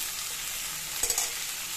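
Note shak greens fry in a pan with turmeric, chilli powder and salt, giving a steady close sizzle. A brief stirring scrape comes through near the middle, and no one speaks.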